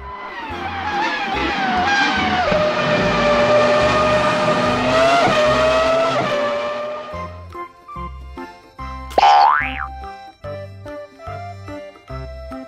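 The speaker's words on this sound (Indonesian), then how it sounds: "Mobil balap." A cartoon-style race car sound effect: a loud revving engine that rises and swells for several seconds, then fades into light music with a brief sharp squeal.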